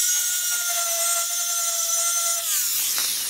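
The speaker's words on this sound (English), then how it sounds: "A little grind action." An angle grinder used during tail light wiring work, a loud steady high-pitched whine for about two and a half seconds that then shifts and winds down, close and alone.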